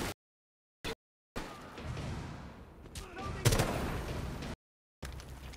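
Gunfire in Rainbow Six Siege, heard in short bursts broken by silent gaps. The loudest shots come near the middle, and voices are present.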